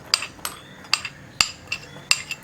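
Fried coconut pieces are stirred into unniyappam batter with a spoon, giving a series of sharp light clinks against the bowl, about eight taps in an uneven rhythm, close and clear, with no speech.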